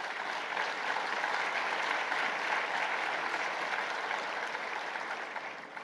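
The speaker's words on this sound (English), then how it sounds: "You deserve a round of applause." A summit audience at the Africa CEO Forum presidential panel in Kigali applauds, producing a dense, continuous roar of clapping that holds at an even level throughout, with no voices standing out.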